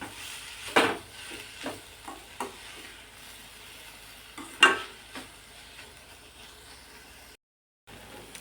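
Ghol, a fresh leafy wild vegetable, stir-frying in a pan: soft continuous sizzling with repeated scraping stirs at an uneven pace, two sharper clanks, and a brief silent gap near the end.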